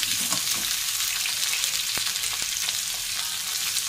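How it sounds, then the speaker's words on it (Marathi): Four large, thickly cut onions frying in a pan for a spicy katvada: a steady, close, loud sizzle runs throughout, with a few faint stirring knocks and no talking. "कांदा चांगला भाजून घ्यायचा आहे"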